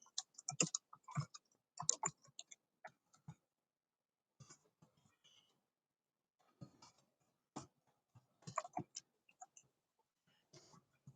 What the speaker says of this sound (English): the beauty of typing, the beauty of typing, the beauty of typing